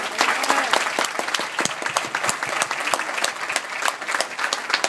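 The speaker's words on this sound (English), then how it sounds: "Let's give him a round of applause for Mr. Wood." Applause breaks out for Mr. Wood at a funeral gathering, a steady roomful of clapping with sharp individual claps standing out, sustained and fairly close for the whole stretch.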